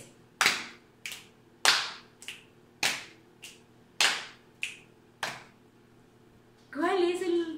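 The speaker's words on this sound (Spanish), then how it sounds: "Aplaudo, pierna. Esa es la secuencia que se repite en este patrón." Rhythmic body percussion alternating hand claps and leg slaps, sharp evenly spaced hits repeating as a steady pattern, close and clear, followed by a brief burst of voice at the end.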